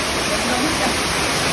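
Tabag Falls in Malibago, Marinduque roars as a loud, steady broadband rush of falling water, close and continuous with no break.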